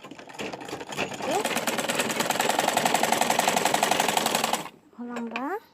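A sewing machine stitches a seam on a baby's pants, running in a fast, steady mechanical rattle for several seconds before stopping, with a person speaking briefly before and after.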